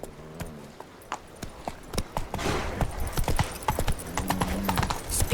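Hooves of the horse Roach clip-clopping in The Witcher 3, a brisk steady rhythmic trot close by with a brief whinny-like tone and rising ambient noise, no talking.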